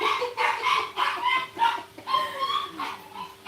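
A stroppy doodle puppy at the groomer's yaps, whimpers and protests in a steady run of high, close barks and whines, with faint background noise throughout.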